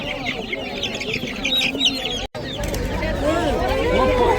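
Roosters and hens clucking and crowing at a village farmers' market, a dense, close chorus of overlapping clucks and cackles that grows busier after a short break, with people talking in the background.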